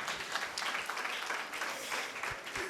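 Continuous audience clapping at an Arya Samaj Shravani Upakarma festival in New Delhi, a steady, fairly even wash of applause.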